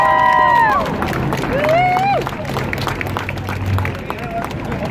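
Outdoor crowd at a Philadelphia rally for Walter Wallace and counting the vote, applauding and cheering after a speech; dense, steady clapping and shouts fill the clip while a voice talks over it.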